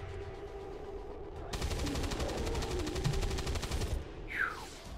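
A heavy gun fires in XCOM 2: War of the Chosen as one sustained, rapid burst of automatic fire lasting a few seconds, loud and close, followed by a brief whoosh.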